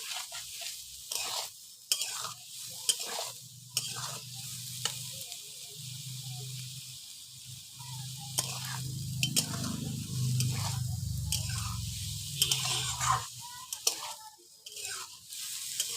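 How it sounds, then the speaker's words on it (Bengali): Soybean chunks with turmeric frying in a pan, a close sizzle broken by repeated scraping stirs of a spatula in an uneven rhythm, with a fuller hiss in the middle; no talking. "ভালো করে ভেজে নিতে হবে"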